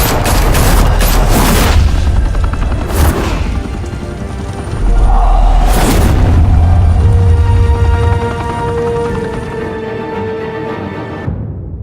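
Bursts of gunfire and heavy booms from a firefight in Batman: The Telltale Series, loud rapid volleys in clusters with a big blast near the middle, then fading to quiet at the end.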